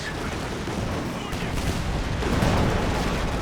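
Tank and anti-tank gun fire from a Company of Heroes 2 match, heard as a continuous dense rumble of distant shots and blasts with a louder swell near the end.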